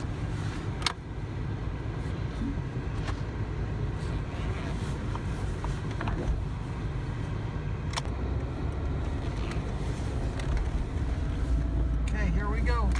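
A 1999 Ford Explorer 4x4 being driven, with a low steady engine and road rumble heard from inside the cabin alongside wind noise and occasional small clicks.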